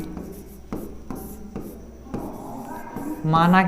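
Chalk or marker scratching across a classroom board in short repeated strokes, close and moderately loud, while a teacher's voice talks over it during a Class 10 maths lesson.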